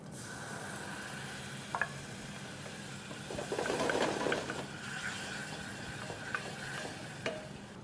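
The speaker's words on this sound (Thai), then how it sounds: "ผักให้พริกแกงสุกแล้วก็หอมดีนะครับกะทิครับผม" Red curry paste frying in a pan with coconut milk, a soft steady sizzle as it is stirred, rising briefly in the middle, with a few light scrapes and no talking.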